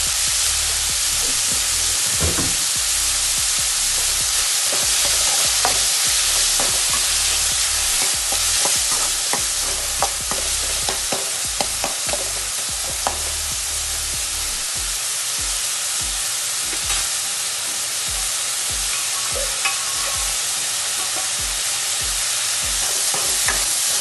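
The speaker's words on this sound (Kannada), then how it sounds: "ಸೇರಿಸ್ತಾ ಇದ್ದೀನಿ ಟೊಮೆಟೊ ಕರಗಲಿ ಅಂತ." Tomatoes frying and being stirred in a pan for masoor dal: a steady loud sizzle fills the whole stretch, with frequent scraping stir strokes and spoon knocks throughout, no voices.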